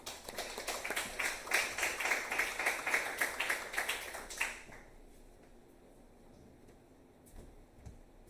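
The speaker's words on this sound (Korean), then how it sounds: "박수로 모시겠습니다." A church congregation at a Wednesday service claps to welcome the preacher, brisk rhythmic clapping for about four and a half seconds that stops abruptly, leaving quiet room tone with a faint tap or two.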